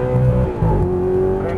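Audi R8 engine pulls hard on a racetrack in Cancun, a steady loud drone rising slightly in pitch as it accelerates, with an instructor talking over it throughout.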